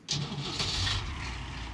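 Excavator engine in the Gold Rush video game, a steady mid-low diesel rumble that starts up and holds at a constant level.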